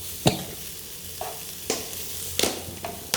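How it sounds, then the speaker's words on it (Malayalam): Beans roast in a pan on the stove, a steady dry sizzle punctuated by several sharp scraping stirs of a spoon against the metal, close and fairly loud with no talking. "നമ്മുടെ പയറങ്ങനെ മൂത്ത് വരുന്നുണ്ട്"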